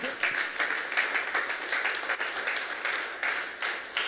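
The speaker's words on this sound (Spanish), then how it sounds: "¿Le puedes dar un fuerte aplauso?" A church congregation claps steadily through a sermon break, a moderately distant, even patter of many hands with small swells and no speech over it.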